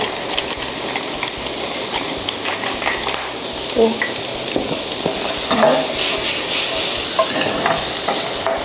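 Squid and shrimp sizzling in a hot pan, a loud, close, continuous frying hiss with occasional stirring scrapes and bursts of steam.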